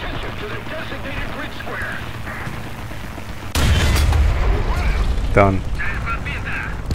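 A tank destroyer's gun in War Thunder fires once midway, a heavy booming blast that lifts into a sustained rumble, with someone talking over the engine noise before and after the shot.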